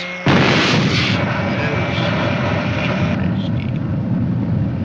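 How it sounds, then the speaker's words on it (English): A thermite bomb goes off with a sudden loud onset, followed by a dense, roaring rush of noise that keeps going for several seconds, like a sustained blast or burn. "I release the charge, and the thermite bomb fires"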